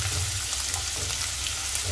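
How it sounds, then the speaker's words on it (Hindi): Chopped onions fry in hot ghee with a dense, steady sizzle that stays even and close throughout, with no talking. "प्याज को हमें लाइट गोल्डन होने तक भूनना है।"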